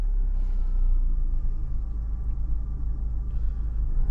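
A Fiat Panda 100hp under restoration ticks over at idle, giving a steady, loud low engine rumble close by with no speech.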